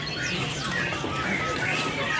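Many small birds, magpie robins including Bornean magpie robins, chirp and tweet together in a busy, continuous chorus at a bird market, Pramuka Bird Market, several calls overlapping at moderate distance.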